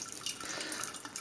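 Boiling water, a little over a liter, is poured over a dry stout mash to sparge it, giving a soft continuous splashing trickle with light dripping, close and quiet, with no voices.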